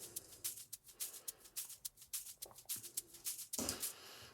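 Two shaker loops layer together, one landing on the offbeat like a hi-hat, giving quiet, crisp rhythmic shakes that repeat evenly and sit alone at low level.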